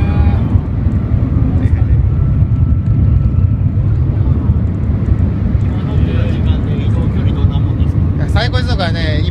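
A loud, steady roar of a high-speed train in Shanghai rushing along, broad and jet-like like an airplane, with people talking over it.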